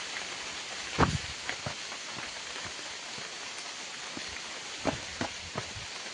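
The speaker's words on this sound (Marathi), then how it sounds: "पाऊस आता जोरात झालाय गाईज" Heavy monsoon rain falls steadily during a trek on a Sahyadri hill fort, a dense hiss throughout with a few louder drops or knocks nearby and no voices.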